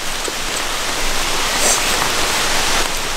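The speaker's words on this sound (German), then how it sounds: "Was für Regen." Heavy rain falls outdoors in Bavaria, a dense, steady, loud hiss of drops that runs unbroken throughout, with no talking.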